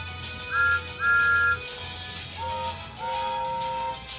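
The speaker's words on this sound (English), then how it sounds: "As the two engines whistled into the sheds" Steam engines Thomas and Gordon whistle as they pull into the sheds: two short, higher toots come first, then two longer, lower whistles, all fairly faint over a soft background.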